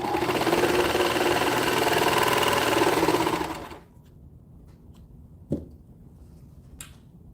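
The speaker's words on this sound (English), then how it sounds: "sewing the waistband first on this one" A sewing machine runs steadily while stitching a waistband on a cloth nappy cover, then stops; a couple of sharp clicks follow in near silence.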